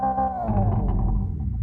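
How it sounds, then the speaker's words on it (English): A 2025 Hyundai IONIQ 5 N electric car's synthetic startup tone with layered harmonic notes gliding slightly downward over a steady low hum, sustained for under two seconds with no talking. "ignition sound, and it sounds like this"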